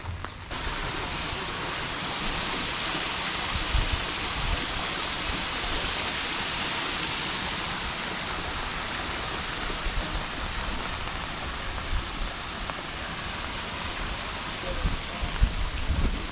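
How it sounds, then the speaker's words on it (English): Steady, dense rainfall hisses continuously throughout a storm at Upper Canada Village, with a few louder drips and patters standing out near the end. "It's a rainy freaking day."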